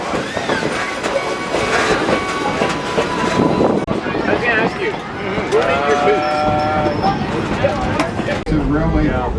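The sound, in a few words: Kettle Valley Railroad 3716 steam locomotive train running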